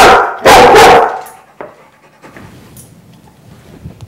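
A dog gives loud, close barks in a quick burst near the start, followed by quieter panting and small movement sounds.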